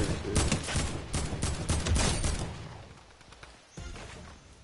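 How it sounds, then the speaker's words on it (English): Rapid shots in Fortnite, a clustered volley of sharp cracks up front that thins out, followed by a lone later report, near and fairly loud with no speech. "A silenced pistol, bro."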